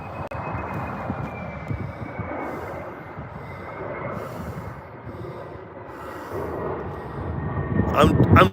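A distant airplane approaches to land near the Grand Teton mountains, a low steady engine rumble and whine that builds gradually, heard under people talking.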